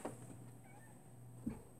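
A house cat meows indoors, with two short faint calls, one at the start and one near the end, and quiet room hum in between.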